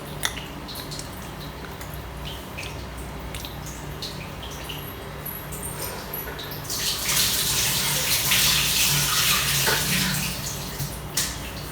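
Water runs from a tap with splashing as hands and face are washed, faint trickling at first, then a louder steady rush of running water in the second half.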